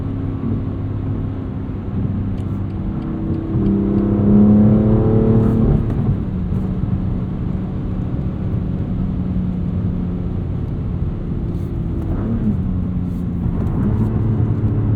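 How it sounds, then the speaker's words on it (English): Six-speed manual 2021 BMW M2 Competition heard from inside the cabin, its engine droning loud and steady, rising briefly in a rev and then dropping with blips as gears shift down, with no one talking. "A little bit of heel toe downshifting there."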